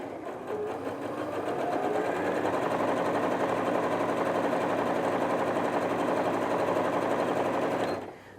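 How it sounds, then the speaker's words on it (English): A Janome 230DC sewing machine starts up and stitches continuously at a fast, even mechanical rhythm for several seconds, loud and close, then stops abruptly. "either put your foot on the foot pedal or press the start-stop button. And that's your 3 securing stitches"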